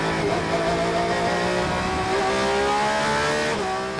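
Porsche race car lapping at the 2018 6 Hours of Shanghai in murky conditions, engine droning loud and steady with a rising pitch as it accelerates, with no one talking.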